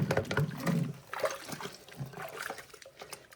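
Running water splashes and trickles in a kitchen sink as an item gets a quick wash, a steady irregular spatter close by with no talking.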